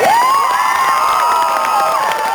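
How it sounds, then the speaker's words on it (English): A studio crowd cheers and whoops loudly in one sustained burst of shouting voices, close and dense, with faint clapping mixed underneath. "you're not going to let that go without applause"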